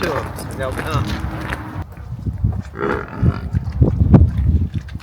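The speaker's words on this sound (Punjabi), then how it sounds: "ਵਾਹ ਨੇ ਮੱਝਾਂ ਤਗੜੀਆਂ ਲੱਗਦੀਆਂ" Buffaloes on a farm moo in several deep, drawn-out calls, close by, mixed with shuffling movement and people talking over them.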